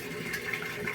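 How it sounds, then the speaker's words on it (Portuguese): A small electric washing-machine pump installed in a 200-litre drum pushes out water forcefully and abundantly, giving a steady, close, rushing gush throughout. "Joga água com força, com abundância."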